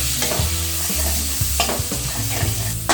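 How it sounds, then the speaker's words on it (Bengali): Spices sizzle steadily in hot oil, with a utensil stirring and scraping the pan every second or so, close and fairly loud. "মশলাগুলোকে আমি একটু ভাজা ভাজা করে দেবো"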